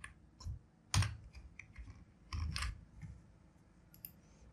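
Typing CSS code on a computer keyboard, with scattered key clicks and a few heavier taps in an irregular rhythm, close and fairly quiet, no talking.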